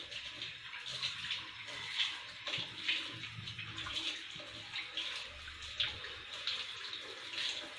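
Running tap water rinsing boiled soya chunks in a kitchen, a faint, steady splashing stream with regular swells as the chunks are swished, no talking.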